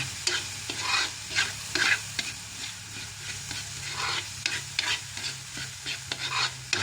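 Sisig with chayote fries in a pan while being stirred, a continuous close sizzle punctuated by regular scraping, clattering strokes of the utensil.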